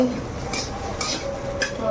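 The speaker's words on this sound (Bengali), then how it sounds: "এখন ডিম ভাজছে" An egg fries in a pan, with soft sizzling under clinks and scrapes of utensils against cookware, close by and fairly loud over a short stretch.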